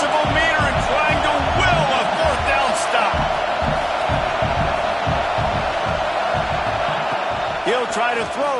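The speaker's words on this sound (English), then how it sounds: "This crowd busting the decibel meter and trying to will a 4th down stop" A stadium crowd at a Penn State versus Nebraska football game roars loudly and continuously during a fourth-down stand, with a commentator talking over the din.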